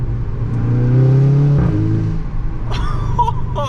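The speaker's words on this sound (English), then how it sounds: "I want to hear the freaking sound of this exhaust." A VW Golf GTI fitted with a 3-inch custom straight-pipe exhaust revs up in a rising, droning climb, then drops off, followed by quieter engine burble with a few sharp higher-pitched bursts near the end.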